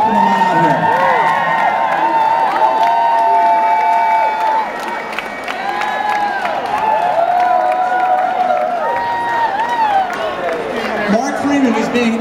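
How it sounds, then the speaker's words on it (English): A crowd at a Pittsburgh gala ball cheers, whoops and applauds loudly for an honoree walking out, with high shouts and whistles riding over continuous clapping throughout. "Please give him a big round of applause and welcome him on out here."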